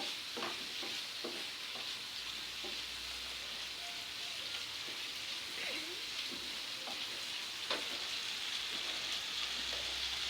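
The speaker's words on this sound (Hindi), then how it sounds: "मसाला मेरा भून रहा है।" Spiced masala for egg korma frying in a pan, a steady close sizzle with soft scraping stirs and scattered pops, no talking over it.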